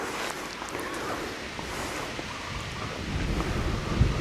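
Steady wind rushing and buffeting the microphone outdoors while flying a small two-chamber kite about 120 cm across, a continuous broadband roar that swells slightly louder near the end, with no talk.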